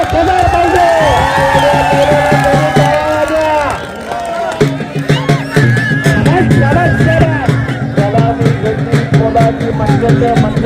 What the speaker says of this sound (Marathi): टाळ्या पाहिजे टाळ्या